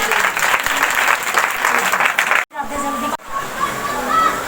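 A congregation at a Hindi-language prayer and testimony service claps for God, loud, dense applause for about two and a half seconds that cuts off abruptly, followed by talk and background sound.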